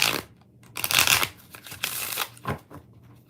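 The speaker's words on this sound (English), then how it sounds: "2 more shuffles." A deck of tarot cards is shuffled in several quick riffling bursts, crisp and close, with short pauses between them and no talking.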